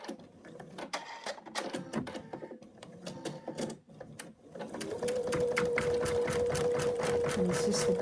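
An embroidery machine stitching out a basting-stitch center marking, rapid rhythmic needle clatter that starts choppy and then settles into a steady, louder mechanical hum with a continuous whine.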